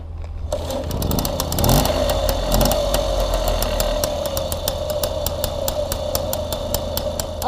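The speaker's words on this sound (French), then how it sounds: "du coup on va démarrer cette mobilette" A 1979 Motobécane M7 moped kicks into life after a brief cranking burst, then settles into a loud, steady, buzzing two-stroke idle close by with no talk.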